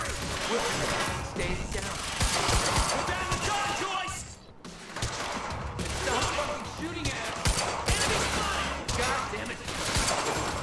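Rapid pistol gunfire in the Quantum Break video game, repeated sharp shots in a sustained exchange with a short lull midway, loud and close amid the action.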